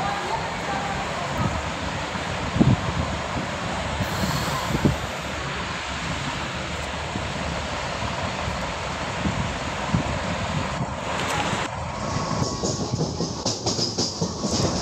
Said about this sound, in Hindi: अभी हम लोग बैठ चुके हैं मानपुर के ट्रेन में